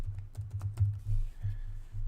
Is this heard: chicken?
no